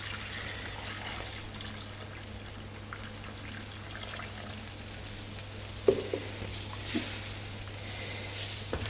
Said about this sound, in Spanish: Echamos nuestra agua